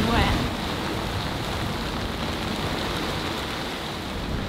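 Heavy rain and wind lash a sailboat at sea, forming a dense, steady hiss and rush that stays loud and unbroken throughout, with no voices.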